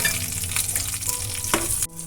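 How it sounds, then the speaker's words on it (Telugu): Eight green chillies fry in oil in a pan, a close crackling sizzle with stirring scrapes and pops, loud and continuous until a sudden brief drop near the end, no voices. "వీటిని వేయించుకుందాం ఆయిల్ వేసుకుని వేయించుకోవాలి"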